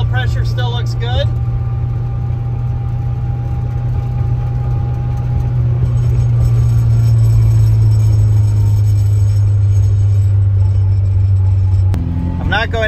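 A 1967 Austin Cooper S cruising at about 45 mph. Its engine holds a steady, loud low drone and hum inside the car, the pitch shifting slightly near the end, with brief clunks at the start and finish.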